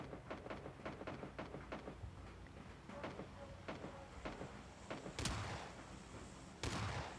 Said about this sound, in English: Gunshots, screams, explosion.